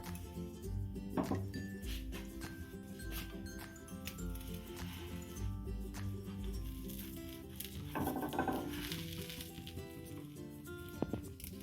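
A lid goes onto a pan of spread soruchakli batter made with moong dal, giving a couple of clinks and clatters, one early and a louder cluster later, over faint kitchen background noise.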